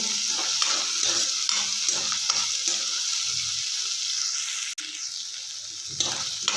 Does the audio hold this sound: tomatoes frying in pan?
yes